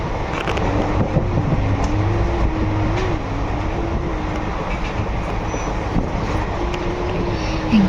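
A passenger train runs steadily, heard from inside the carriage: a continuous low rumble and rattle of wheels on track with a faint wavering whine, loud and constant throughout, with a few faint background sounds.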